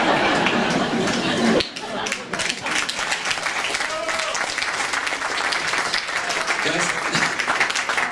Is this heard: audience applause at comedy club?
yes